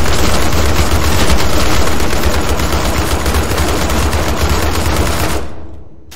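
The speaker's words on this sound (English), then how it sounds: "They just made it really cool if you want to like shoot up an elevator or something." Loud, dense automatic gunfire pouring into an elevator in People Playground, a continuous rapid roar of shots that cuts off abruptly near the end.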